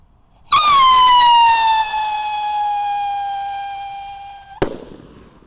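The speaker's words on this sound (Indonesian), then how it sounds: "Dan ini roket yang kedua yang kita nyalakan, yang warna biru, bosku." A blue rocket firework launches outdoors in the late afternoon with a loud, piercing whistle that slowly falls in pitch for about four seconds, then ends in a sharp close burst.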